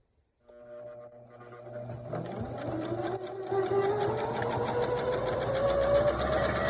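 A sewing machine stitches sock cuffs onto a toddler sleep sack. The motor starts up after a brief pause and its whirring pitch climbs steadily as it runs on, close and alone.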